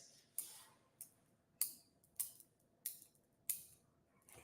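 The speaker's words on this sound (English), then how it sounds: "these are my focus beads, so that's what you hear in the clicking" Focus beads clicking together in a quiet room, giving about seven faint, crisp clicks at a steady pace of roughly one every half second, with no talking.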